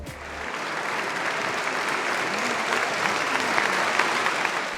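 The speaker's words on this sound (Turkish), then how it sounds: "Bu alkışlar İstanbul Devlet Opera ve Balesi sanatçılarının performansına" Sustained applause from a large opera audience at Istanbul's Atatürk Cultural Center after an Istanbul State Opera and Ballet performance, dense and steady clapping filling the hall throughout.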